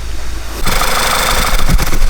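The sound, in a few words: car engine idling and hesitating, possible vacuum leak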